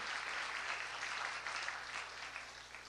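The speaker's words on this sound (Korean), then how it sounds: "우리 꿈마을 또 작은마을 친구들 환영의 박수 한번 보내드리면 감사하겠습니다" During a church worship service, a congregation gives soft, steady welcoming applause that sounds somewhat distant and lasts just under three seconds.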